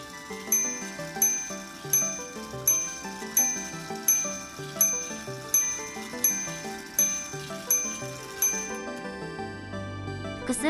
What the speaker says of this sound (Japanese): 複数回の鐘を鳴らすことができました。